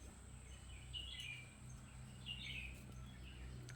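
Birds chirp in short bright bursts at a distance outdoors where kittens explore leaves and stones, heard over a steady low background hum with no talking.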